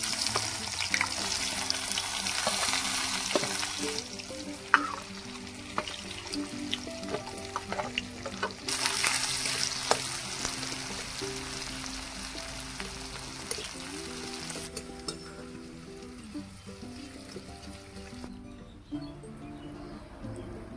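Chicken curry with plenty of meat and extra onion fries in a pan, sizzling steadily as a utensil stirs and scrapes, the sizzle easing toward the end.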